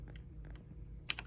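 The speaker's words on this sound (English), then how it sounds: "I'm going to type" Keys tapped on a Texas Instruments Silent 700 terminal keyboard, a few faint, soft clicks in quick small clusters over a quiet background.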